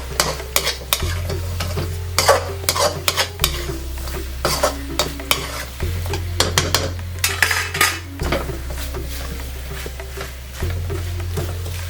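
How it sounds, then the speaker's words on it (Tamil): Plantain masala is tossed and fried in a pan over a high flame, with a constant sizzle, frequent clattering spoon-against-pan scrapes and a low burner hum, loud and close, without talk. "ஃப்ளேமை ஹை ஆக்கி இதை இதில் டாஸ் பண்ணி எடு."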